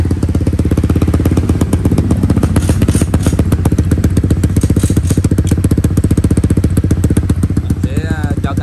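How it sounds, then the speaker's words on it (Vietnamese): A Honda Winner 150 motorcycle engine idles steadily just after maintenance, with a dense, even, close-up putter and faint clatter running unbroken from start to finish. "thì đây là ngày đầu tiên xe Winner chính thức nổ máy"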